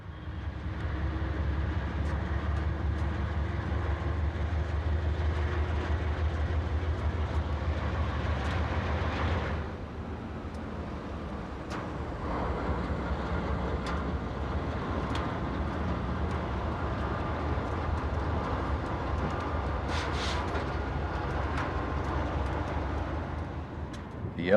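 A Union Pacific SD40-2 diesel locomotive from the 1970s standardization fleet, working the LA and Salt Lake line west of Las Vegas, Nevada, rumbles past with a heavy low drone that eases briefly midway, then builds again, with no talk.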